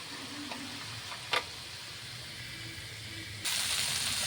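Spice paste sizzles in a pan while paneer curry with potatoes and peas is cooked. A soft, steady hiss runs throughout with a brief clink, and the sizzle grows louder toward the end.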